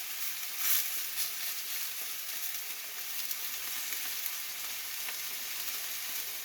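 Salmon taco filling with ancho honey sauce sizzles in a pan, a steady bright hiss throughout with a few small pops, close and alone.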